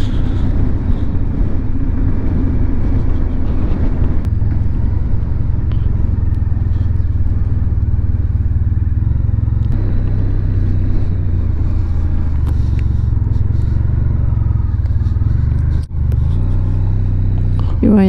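A steady, loud engine drone rumbles throughout, like a motorcycle cruising at constant speed, with low road noise and no clear voices.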